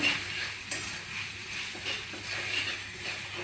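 Cumin and coriander powder being stirred in a hot pan with oil, a soft continuous sizzle with faint scraping of the spoon against the pan and occasional light clinks.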